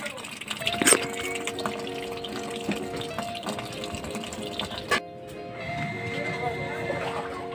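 Water rushes steadily into an Electrolux fully automatic washing machine drum through the inlet valve, with a constant mechanical hum, a sharp clack partway through, while a person talks over it.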